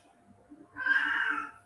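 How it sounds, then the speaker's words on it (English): A cat gives a single drawn-out meow, faint and somewhat distant, against a low background murmur. "you can hear that cat, the poor little sod"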